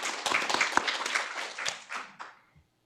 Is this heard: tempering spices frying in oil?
no